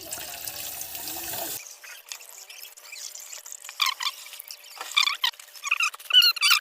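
Water is poured into a homemade curd energy drink, heard as a brief trickle followed by irregular splashing and liquid bursts, close and fairly loud after an abrupt quieter start.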